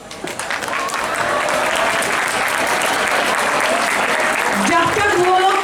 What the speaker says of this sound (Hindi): give all the participants a huge round of applause